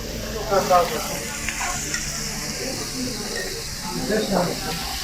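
Meat fries on a hot grill with a continuous sizzling hiss, joined by scraping and turning noises and occasional louder bursts, while people talk nearby.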